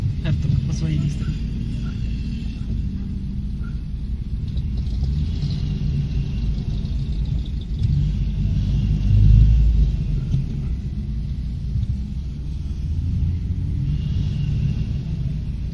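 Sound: armored personnel carrier engine rumbling

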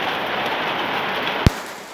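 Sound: hailstorm with rain

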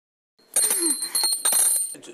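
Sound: bell ringing

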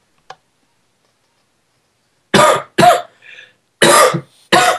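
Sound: coughing

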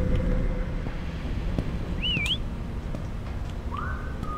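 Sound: whistling in the video game Lazaret

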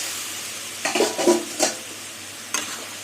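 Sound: potatoes and pointed gourd frying and stirred in a pan

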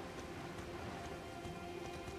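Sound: rain falling in the video game Elden Ring

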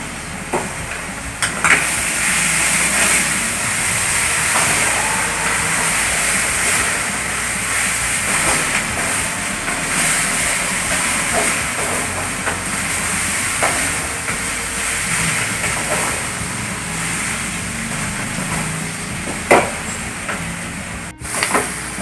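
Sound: onions and green chillies sizzling while sautéing for egg curry

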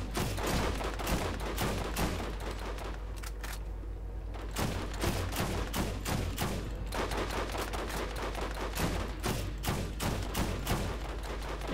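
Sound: gunfire in Borderlands video game

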